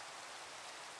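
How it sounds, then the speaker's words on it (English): Rain falling in the Minecraft video game, a steady dense hiss of downpour heard alone for a second with no voices. "So I knew this rain cycle would happen pretty soon."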